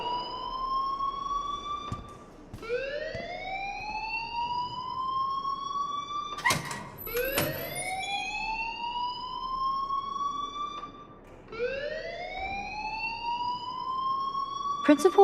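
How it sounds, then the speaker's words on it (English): A wailing, siren-like alarm in Life is Strange rises in repeated long upward sweeps, loud and close, with short gaps and some talking mixed in. "please turn off that alarm since that's your job"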